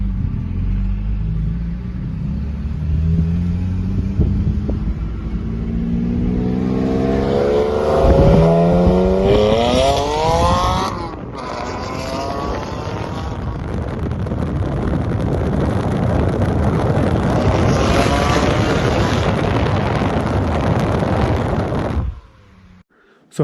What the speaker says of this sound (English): they had the Akrapovic over axle pipes, and they had JCR non-silenced, and that car felt amazing, and it sounded really good